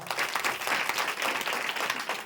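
Applause from a village crowd at a kirtan during a temple's Akhand Harinam Saptah, a dense steady wash of many hands clapping continuously at moderate loudness throughout.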